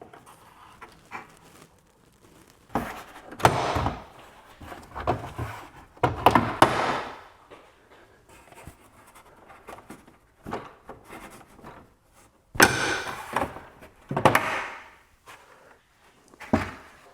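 Plastic trim panel friction clips popping loose as a trim removal tool pries the panel off a 2026 Tesla Model Y Juniper: several sharp snaps and clunks spread irregularly between quieter handling noises, close up.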